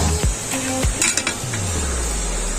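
Pork tripe and intestines sizzling in a covered pot, a steady soft frying hiss with a few metallic clinks of a utensil or lid near the start, close and alone.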